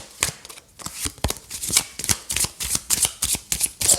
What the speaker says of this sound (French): Je vais faire une ligne de 5 cartes.